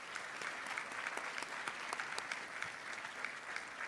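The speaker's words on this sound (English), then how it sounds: "Can we give them another round of applause?" An audience at a school summer program closing ceremony applauds steadily, a dense, even wash of many hands clapping at moderate distance for several seconds.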